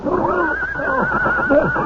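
A horse neighs in a radio drama, a single loud, close whinny that rises and wavers for about two seconds, heard alone without talk.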